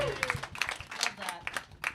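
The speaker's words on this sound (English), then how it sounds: "Round of applause." A small group claps briefly, scattered uneven hand claps at moderate distance with talking mixed in.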